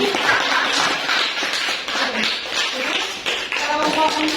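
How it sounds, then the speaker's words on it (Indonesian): Classroom applause for a student group, a steady wash of many hands clapping together for several seconds at close range. "Beri aplaus untuk kelompok 5."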